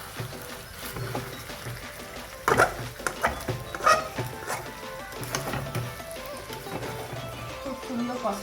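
Chicken pieces for biryani being stirred and seared in a covered pot, with soft sizzling under a steady hiss and a few louder scrapes and clatters of the spoon against the pot around the middle.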